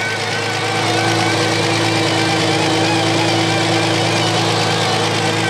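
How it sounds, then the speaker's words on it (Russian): A Ford Scorpio V6 engine idles steadily just after starting, with a loud, even hum and a constant low drone, close and unbroken throughout. "Завожу движок."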